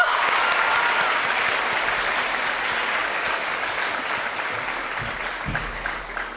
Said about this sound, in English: Shall we give a round of applause again for her?